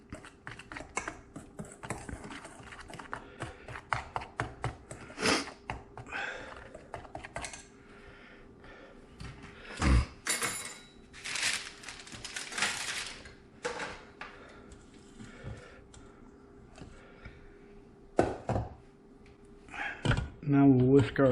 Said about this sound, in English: And we'll just whisk all this together.